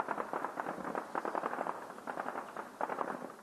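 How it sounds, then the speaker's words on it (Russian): Rapid bursts of gunfire at the front line in Donetsk region, sharp repeated cracks in irregular clusters over several seconds, moderately distant and fairly faint. "После обеда на передовой снова началась стрельба."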